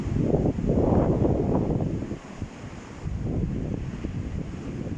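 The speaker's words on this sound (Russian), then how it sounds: "Волна набегает на волну." Stormy sea waves surge and crash at Anapa under strong wind, a rushing roar that swells, drops briefly, then builds again, with no voices.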